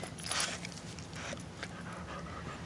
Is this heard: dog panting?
yes